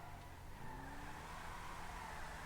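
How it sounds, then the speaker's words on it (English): A new car engine sound in GTA 5 Online, a low continuous droning hum with a brief rising tone, quiet and steady without talk. "We do have a new engine sound"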